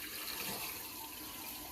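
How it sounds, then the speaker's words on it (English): Water flowing through a 4-inch kitchen drain line fitted with a street 90 coupling during a test after calcified grease removal, a steady, moderately loud rushing and splashing wash that runs unbroken throughout. "We are running some water."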